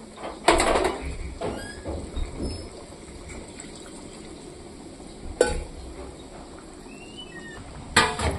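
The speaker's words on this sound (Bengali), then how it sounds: "আমি আস্তে করে ফুটতে দেব।" A Bengali baus fish curry simmering in a pot, a steady low bubbling and sizzle with a few sharp clatters of utensil on pot, close and alone.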